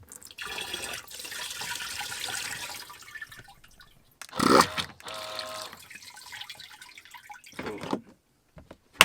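Dirty grey water from a van is poured down a toilet in a cramped space, with splashing and trickling in bursts, a louder gush midway and quiet drips between pours.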